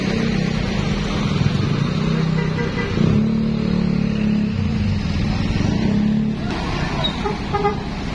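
Harapan Jaya Hino RN 285 bus travelling in a convoy of buses on the road toward Merak, a loud, continuous engine rumble with passing traffic noise and brief horn toots, nearby and without talk.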